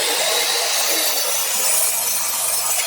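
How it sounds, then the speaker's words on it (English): A hand saw cuts steadily through the wood of a homemade wooden mallet, trimming it flat, with a continuous close, loud rasping stroke and no talk. "now we're just going to trim this flat"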